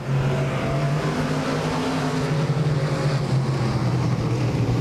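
Stock cars race around Claremont Speedway, a steady loud engine drone with a sustained low tone that holds throughout, no voices in the foreground.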